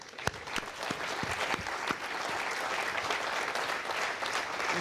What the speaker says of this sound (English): il faut applaudir pour Colleferro